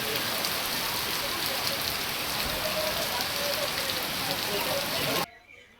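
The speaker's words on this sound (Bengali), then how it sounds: "দেখো কি মুষলধারা বৃষ্টি পড়ছে।" Heavy evening rain pours down in a steady, dense hiss of drops hitting surfaces nearby. It stays loud and even throughout, then cuts off abruptly near the end.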